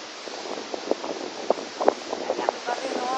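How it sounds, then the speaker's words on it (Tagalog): Steady roaring surf of strong ocean waves at Cape D'Aguilar, Hong Kong, with wind buffeting the microphone, broken by sharper splashes and crashes of water close by. "Napaka-lakas ng alon."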